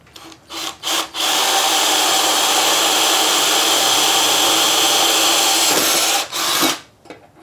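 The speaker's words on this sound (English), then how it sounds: "Alright, now we can drill it." Power drill whirring steadily at high speed for several seconds while repairing a rolling shop stool, loud and close, with brief starts and stops before and after.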